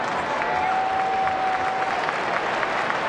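A baseball stadium crowd murmurs and claps in a steady, even wash of noise, with a sustained whistle-like tone rising briefly above it.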